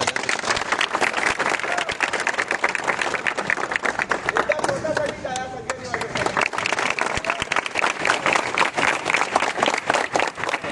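A human pyramid team in Maharashtra claps and cheers after building seven tiers at a practice camp: a dense, steady wash of applause from a large group, with crowd voices and chatter mixed through it.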